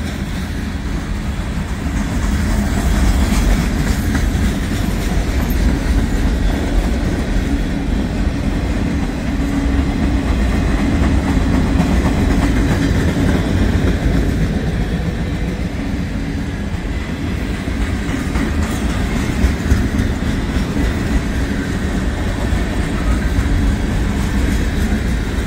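A long freight train with trash cars rolls past at low speed, a loud, continuous rumble and clatter of wheels on rail that stays steady and close for the whole stretch.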